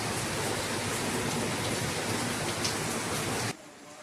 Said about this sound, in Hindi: और ये देखिए कितनी तेज़ बारिश हो रही है।